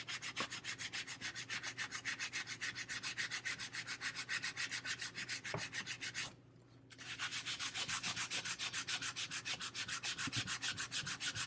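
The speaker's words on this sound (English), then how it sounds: "If you're sanding, you want to sand at a 45-degree angle from one way" Rhythmic hand sanding of putty at a 45-degree angle, quick back-and-forth rubbing strokes at a steady pace, stopping for a moment before continuing, close and fairly quiet.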